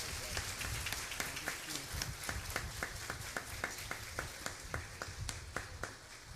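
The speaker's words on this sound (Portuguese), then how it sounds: "Ao nosso cardeal Dom Urani, vamos acolher com uma calorosa salva de palmas." A church congregation at a Catholic Mass applauds in welcome of the cardinal, with dense, steady clapping from many hands in a reverberant space, along with some voices.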